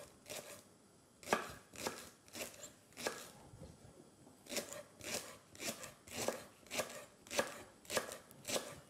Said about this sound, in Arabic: قطع البصل دوائر